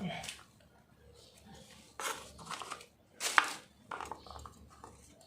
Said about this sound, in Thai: หั่นตะไคร้ไปตำจ้า